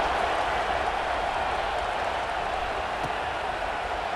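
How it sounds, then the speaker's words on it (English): A steady, dense roar of a large football crowd fills the space, broad and continuous without clear breaks, like a packed stadium cheering from all around. "Do you think this crowd's going to get loud when their defense comes on the field?"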